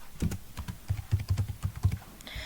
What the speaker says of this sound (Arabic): نمشي نكتب هنا سيليكت